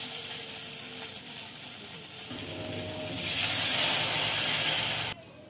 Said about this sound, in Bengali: দেখুন এবার জল ঢেলে দেবো।